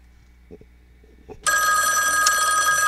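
A telephone rings loudly and continuously in a classroom-style setting, with a steady electronic bell tone starting abruptly after a few soft thumps and lasting to the end.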